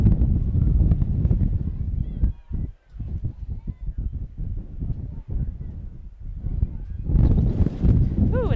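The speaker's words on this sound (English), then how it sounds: "Ooh, another strong gust there." Strong wind gusts buffeting the microphone at an outdoor soccer field on turf, loud low rumbling roar that drops briefly and surges again, with goose-like honking calls near the end.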